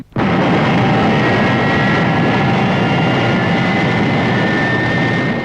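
Thunderbird 1, the rocket craft from the Thunderbirds TV puppet series, lifts off: a sudden blast opens into a sustained, loud, jet-like roar with a faint whine riding on top.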